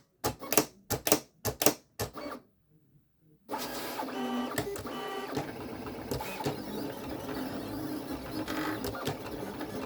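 A Silhouette Cameo 5 cutting machine works through cardstock: a run of sharp, rhythmic mechanical bursts, then a brief pause, then steady whirring and clattering of the carriage moving and cutting, close and fairly quiet.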